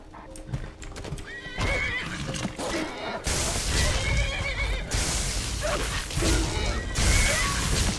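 A horse in Skyrim combat neighs and whinnies repeatedly amid pounding hooves and clashing thuds, the loud cries recurring in bursts over a busy fight.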